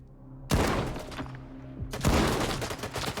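A shotgun fires twice in the video game Stalker 2. Each shot is a loud, close blast with a rolling tail, and the two come about one and a half seconds apart, with no speech.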